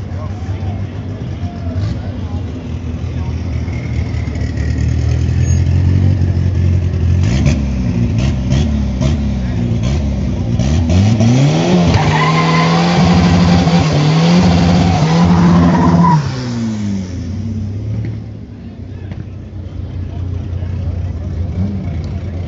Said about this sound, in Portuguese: Jeve, vai dar uma pega no Jetta, velho.